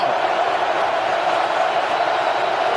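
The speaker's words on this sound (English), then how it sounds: "the crowd's all over it. It's getting loud." Football stadium crowd at an NFL game between the Rams and Seahawks in Seattle, a dense, steady roar of many voices, loud and sustained throughout.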